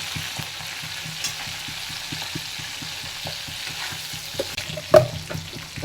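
Cumin seeds crackle and sizzle in hot oil already holding chilli and garlic, a steady close frying hiss with faint stirring and a sharper spit near the end, no voices.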